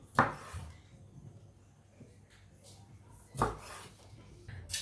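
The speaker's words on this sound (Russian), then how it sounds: "Колбасу я нарезала сначала вот такими кольцами, затем нарезаю вот так" A knife slices sausage on a board in two sharp, distinct strokes with quieter scraping between, close and fairly faint.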